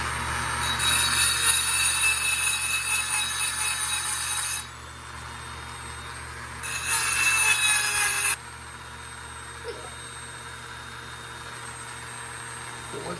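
A rotary tool bit trims and cleans up a DIY aluminium pedal, giving steady high grinding passes of about four seconds and then two seconds, close and loud over a constant workshop hum.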